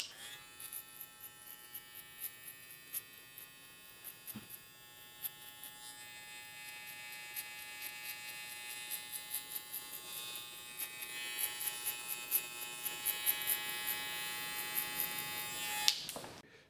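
Electric hair clippers buzz steadily while cutting a mid drop fade, a close, continuous whine that swells louder in the second half with small bumps as the blades move.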